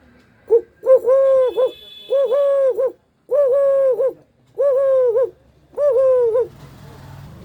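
A voice mimics a dove, giving five drawn-out, hooting coos one after another, close and clear with short pauses between.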